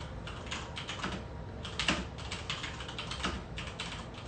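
Quick, irregular typing on a computer keyboard, close and fairly quiet, with bursts of key clicks running continuously and a few louder taps standing out.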